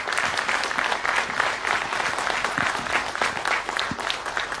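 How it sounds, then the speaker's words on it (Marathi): An audience at a Marathi history lecture event commemorating Ninadrao Bedekar breaks into loud, dense applause that holds steady for several seconds, with no voices over it. "एकदा त्यांच्यासाठी जोरदार टाळ्या होऊन जाऊ दे"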